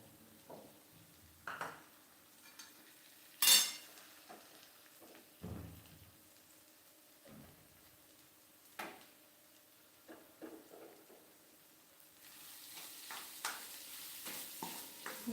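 Moth bean curry being stirred in a pan after ground peanut and coconut powder go in, with soft scattered scrapes and clinks of the spoon against the pan over a quiet, faint sizzle.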